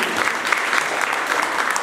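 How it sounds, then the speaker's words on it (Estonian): Steady audience applause fills the whole moment, dense and continuous clapping from a crowd at a municipal birthday celebration in Lääneranna parish, with no gaps or voices rising above it. "Ja, aga aplaus!"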